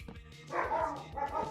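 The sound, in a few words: dog barking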